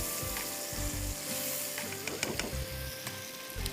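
Tomatoes cook in olive oil for garlic and oil spaghetti, giving a soft continuous sizzle over a low steady hum, with a few faint utensil ticks near the end and nobody talking.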